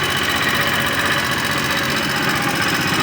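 The engine of a used Choi Nori vehicle runs at a steady idle, a continuous close rumble with a faint mechanical rattle and no variation.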